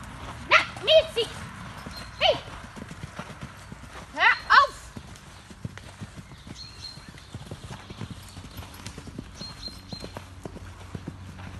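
Horse hooves clip-clopping on a stable yard as the horses warm up, a steady series of light near footfalls throughout, with a few loud voice calls and sharp shouts over them.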